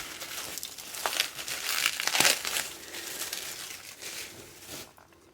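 A bubble wrap envelope that held a Sony Walkman is handled up close, giving continuous crinkling and crumpling plastic rustles that swell in the middle and fade out, with no voices.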